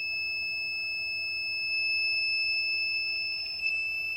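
A piezo buzzer on an LM35 and LM324 temperature alarm circuit sounds a continuous, piercing high-pitched tone at steady loudness throughout, close to the microphone, with no talking.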